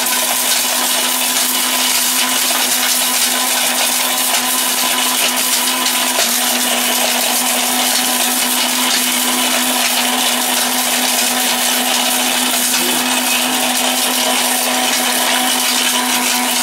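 An Italian robot multicooker grinds dried turmeric, a loud, steady high-speed motor whine with a constant hum that runs unbroken throughout, without talk.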